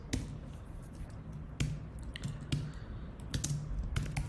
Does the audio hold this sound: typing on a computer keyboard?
yes